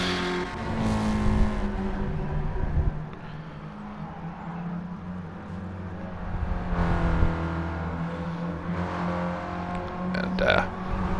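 Classic racing cars at Goodwood Revival, a little Toyota leading into the chicane, engines revving and passing close with rising and falling roars under an excited commentator's talk.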